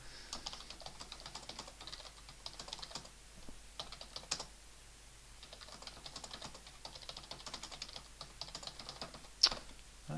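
Fingers type on a computer keyboard, entering text into an HTML text editor, producing quiet, close, irregular bursts of clicking keystrokes with short pauses between runs.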